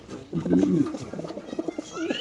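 Caged pigeons at a pigeon market give several close, throaty rolling coos in quick succession, clearly audible over nearby voices and market bustle.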